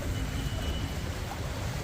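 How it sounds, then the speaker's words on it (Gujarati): Steady rain pours down over floodwater filling the streets during a heavy downpour, a dense continuous wash of noise that holds even and unbroken throughout. "જો મિત્રો વરસાદ ચાલુ જ છે, એક ધારે વરસાદ ચાલુ જ છે, બંધ થતો નથી વરસાદ"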